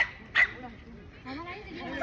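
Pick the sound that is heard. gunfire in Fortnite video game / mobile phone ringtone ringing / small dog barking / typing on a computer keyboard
small dog barking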